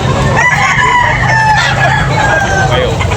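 A young gamefowl stag at a rooster farm in Tabunok, Talisay, Cebu crows loudly and close, with clucking from other fowl in the background and faint talk.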